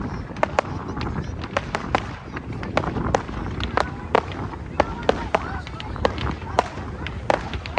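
New Year fireworks burst over Orange, NSW, in a rapid irregular series of sharp cracks and pops at moderate distance, with people talking nearby throughout.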